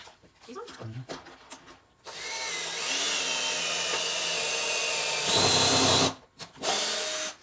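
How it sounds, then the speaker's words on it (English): A power drill bores pocket holes into wood for a DIY console table, one long steady whine of about four seconds that rises in pitch near the end, with short bursts and voices talking before and after. "I'm going to make the pocket holes, and you come behind me and put the screws in."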